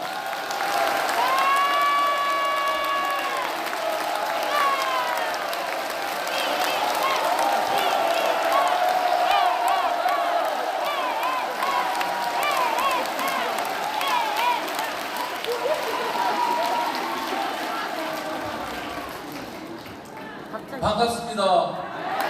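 A crowd at a Free Village leaders' convention applauds to welcome Professor Lee Hee-cheon, with steady, dense clapping and mixed voices through most of the stretch before it thins out near the end.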